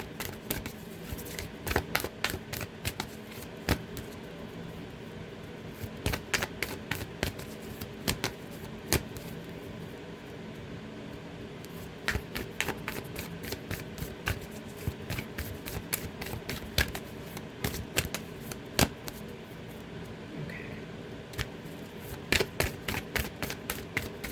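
A long stretch of tarot card shuffling, with bursts of crisp riffling clicks coming and going over a quiet background, near and soft, with no talking.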